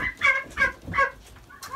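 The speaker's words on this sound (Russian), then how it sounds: "на полу у меня уже сидят три индюшонка, расклеванная птица" Young turkey poults, some pecked and injured, sit on the floor of a newly built poultry house and give a run of loud, close, bright cheeping calls in bursts of three or four, with short pauses between.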